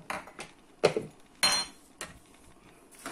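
Utensil scraping and clinking against a pot while stirring cabbage and tomatoes, in several separate strokes, fairly close, with no talking.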